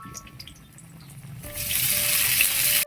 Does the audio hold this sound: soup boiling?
yes